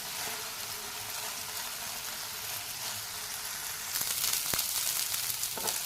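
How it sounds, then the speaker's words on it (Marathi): Cauliflower stir-fried in hot oil over a high flame, giving a steady, close hiss of sizzling that swells louder near the end, with a few sharp clicks of the spatula against the pan. "मोठ्या गॅसवरच आपल्याला हा फ्लावर परतून घ्यायचा आहे"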